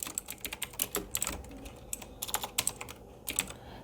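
Someone types code on a computer keyboard, close up, with irregular runs of crisp key clicks, brief pauses between bursts, and no speech.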